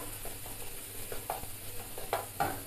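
Garlic frying in oil in a pan, a close steady sizzle with soft stirring scrapes and a few brief utensil clicks.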